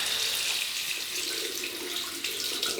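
A razor is rinsed under a running bathroom tap, a steady close splashing hiss of water with slight variations as the blade passes through the stream.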